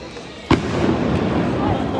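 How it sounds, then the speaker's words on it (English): A large firework bursts with one sharp bang in a downtown Portland street. A dense, rumbling crackle follows, with crowd noise underneath. "It's a big ass firework."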